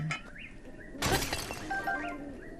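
A sledgehammer smashes an object in the Zelda: Breath of the Wild game, producing one sharp shattering crash amid quiet game ambience with faint chirping tones.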